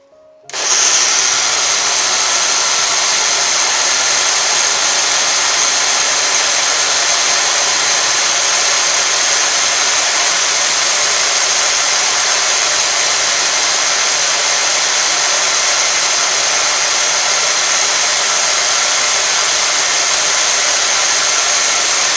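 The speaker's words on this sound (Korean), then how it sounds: "이렇게 두 가지만 더 곁들여서 블랙베리와 같이 갈아줍니다." A blender grinding blackberries together with two other ingredients, starting abruptly and running as a loud, steady, high-pitched motor whine for over twenty seconds without pause.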